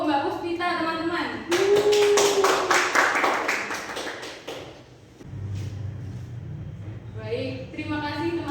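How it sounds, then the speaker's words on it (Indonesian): A short burst of classroom clapping during a micro-teaching lesson, a few seconds of scattered hand claps from a small group, with talking before and after it. "Beri tepuk tangan untuk Mbak Puspita, teman-teman."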